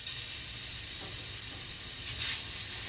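Garlic paste sizzling in hot mustard oil in a pan, a steady, close frying hiss that holds evenly throughout with a brief flare of crackle near the end.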